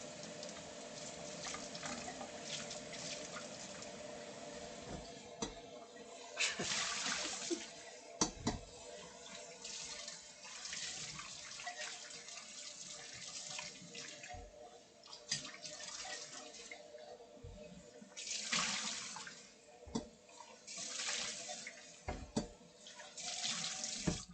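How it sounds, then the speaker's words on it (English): Tap water runs into a kitchen sink as food is rinsed to remove dust, a quiet steady stream with splashing bursts and occasional clunks, close by and with no talk. "Gonna rinse this because there's dust sometimes."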